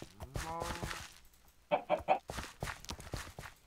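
A chicken in the farm video game Farm Hunt clucks in a short run of three quick, fairly close clucks, preceded and followed by brief bursts of other game sounds.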